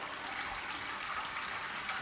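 Wort drains from the lifted grain basket of a Brewcrafter 25 brewing system, a steady close splashing trickle that runs on without pause.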